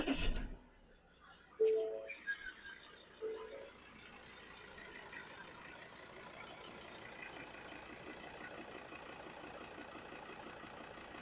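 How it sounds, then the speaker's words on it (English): A couple of short beeps from a BT300 battery tester, then a car engine cranks and settles into a steady, quiet idle. "Start engine."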